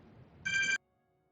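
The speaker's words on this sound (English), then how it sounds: "hold on, I'm getting a phone call." A phone rings with an incoming call, a short electronic ringtone burst of about a third of a second, clear and moderately loud over faint background noise, then cut off into near silence.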